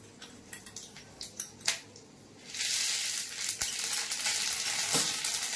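Several light clicks and taps give way to a sudden loud, steady sizzle as dried red chillies and mustard seeds fry in hot mustard oil, crackling close up.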